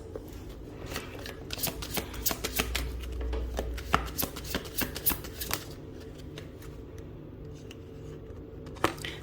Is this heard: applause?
no